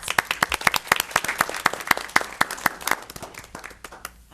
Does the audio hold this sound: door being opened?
no